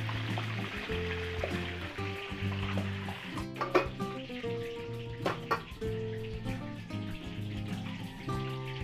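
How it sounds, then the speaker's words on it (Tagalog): Embutido, a Filipino meatloaf, fries in hot oil with a soft, steady sizzle and occasional pops, partly buried under louder background music. "Iinit po tayo din ng mantika at ipiprito na natin yung ating embutido na ginawa kahapon"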